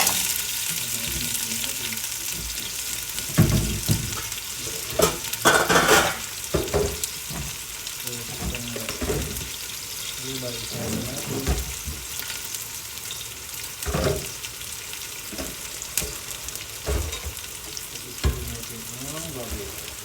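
Hot cooking oil sizzles steadily in a pan while food is fried for kare-kare, with irregular bursts of crackling and occasional stirring sounds.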